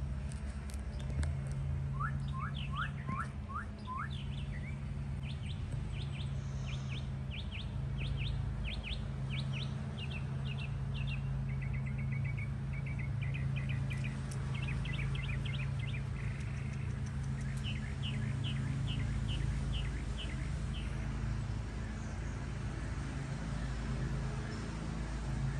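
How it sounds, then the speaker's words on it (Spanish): Small birds chirp and trill in repeated short bursts among pine trees, fairly near and clear, over a steady low hum of background noise throughout, with no talking. "hoy los pajaritos, oigan"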